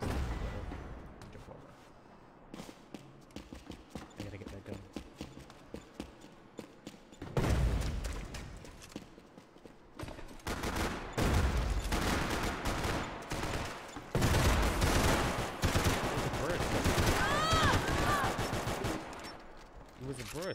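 Rapid gunfire and grenade launcher blasts in Max Payne 3 multiplayer: sparse scattered shots early, then loud dense bursts of automatic fire and heavy thuds, with someone talking at times.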